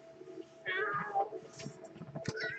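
A cat gives a few short meows in quick succession, close and fairly quiet, rising and falling in pitch, with light background murmur.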